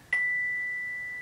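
A bell kit bar struck at its center with a hard rubber mallet that lifts right off, giving one clean, bright strike followed by a long, sustained ring that fades slowly, heard alone.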